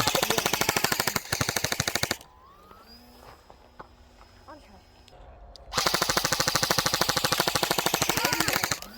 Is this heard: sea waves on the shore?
no